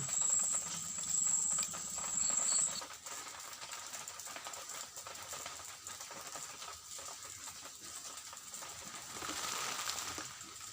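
Water from a motor pump gushing hard through a pipe, making a continuous, faint, airy rush that swells slightly at the start and near the end, with no voices.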